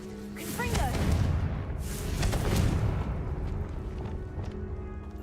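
Confringo explosive spell cast in Hogwarts Legacy: a booming, fiery burst with a rumbling low tail that swells and fades over several seconds amid game ambience.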